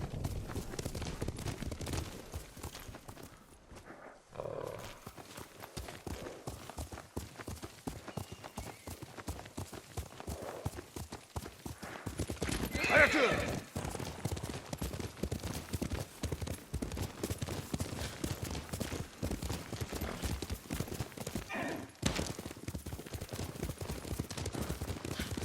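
A horse gallops with steady, continuous clip-clop hoofbeats throughout a ride in Ghost of Tsushima, with a brief neigh partway through, heard over quiet ambient background.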